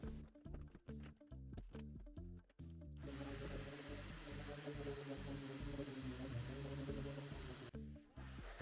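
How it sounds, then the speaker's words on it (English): A power sander whirs steadily and continuously on a wooden frame, preceded by a few seconds of sharp, rhythmic knocking and clattering, then cuts off near the end. "And now to the fun part, sanding."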